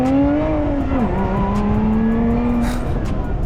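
A six-cylinder manual sports car, a Lotus Emira or Toyota Supra, accelerates across a bridge in Seville, Spain; a loud, steady engine drone rises in pitch, dips briefly at a gear change, then climbs again close to the cabin.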